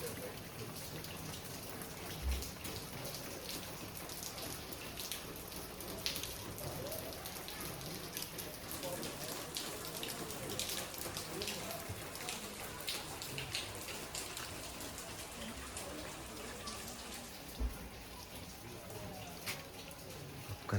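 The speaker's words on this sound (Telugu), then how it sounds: "సో ఇది పైన నుండి వాటర్ పడుతున్నాయి." Cold water pours down from above near Srisailam, a dense, even patter like steady rain, fairly faint and continuous throughout with no talking.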